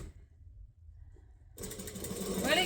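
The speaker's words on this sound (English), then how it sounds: "We're going to stitch forward and backwards" A sewing machine stitches forward and backward on an apron, its motor starting after a quiet pause and running as a steady, loud, close mechanical whir to the end.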